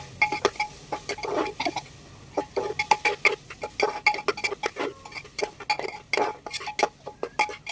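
Metal spoon stirring khichdi with spices in a cooking pot, producing a busy run of close clinks and scrapes against the pot in an irregular rhythm, with no talk.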